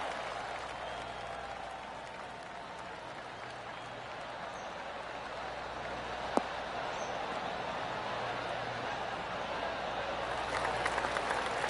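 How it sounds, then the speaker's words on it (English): Polite, steady golf applause from a crowd in PGA Tour 2K23 rolls on throughout, a soft continuous patter of clapping at moderate distance with a faint voice underneath. "Oh, golf clap."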